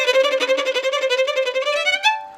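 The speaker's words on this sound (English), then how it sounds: "So now we're going to talk about Sautille, which is a springing stroke." Violin played with a sautillé springing bow stroke, a rapid even stream of short bouncing notes that climbs in pitch, close and clear, alone for about two seconds.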